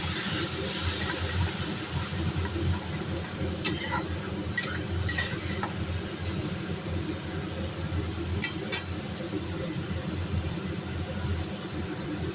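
Spice masala being stirred and sautéed with a splash of water for a vegetarian-style prawn dish, a continuous low cooking rumble with a few sharp clinks of a spatula against the pan, steady throughout.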